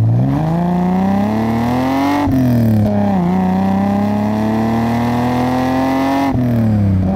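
A tuned Toyota Supra with a loud aftermarket exhaust droning steadily from inside the car while driving, its engine pitch climbing slowly and dropping sharply at two gear changes.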